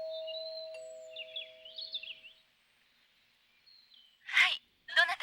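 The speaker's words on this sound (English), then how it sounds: "I'll ring the doorbell." A doorbell rings in the Policenauts video game on PS1, a brief electronic chime followed by a quiet pause, then two sharp breathy bursts near the end.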